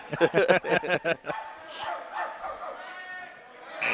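Basketball crowd in a school gym imitating dogs barking, a burst of rapid, loud bark-like shouts from many voices followed by a sustained roar of crowd noise.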